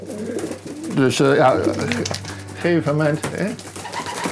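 Racing pigeons in a loft give soft cooing calls, mixed with someone speaking close by over a low steady hum.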